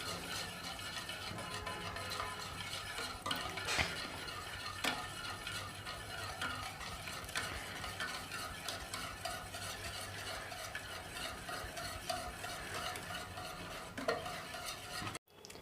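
A spoon stirs milk made from water and powdered milk in a cup, a quiet, steady scraping and clinking that runs throughout, ending in a brief knock.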